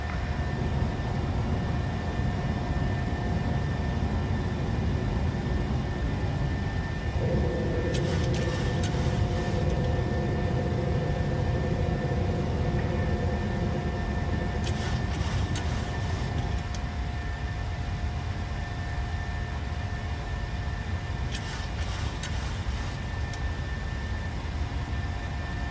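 A PMDG 737-600 jet climbing out in Microsoft Flight Simulator, a steady broadband engine roar with a constant tonal hum and periodic faint hissing swells, unbroken and fairly loud throughout.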